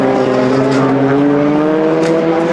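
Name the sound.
rallycross race cars howling past the commentary box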